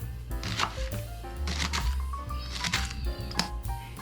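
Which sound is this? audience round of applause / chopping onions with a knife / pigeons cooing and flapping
chopping onions with a knife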